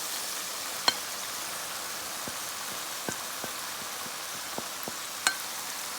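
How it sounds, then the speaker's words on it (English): Smoked herring goes into a sizzling tomato and onion sauce, producing a soft continuous hiss with occasional sharp pops and crackles nearby, and no talking. "I'm gonna go in and add my smoked herring in there."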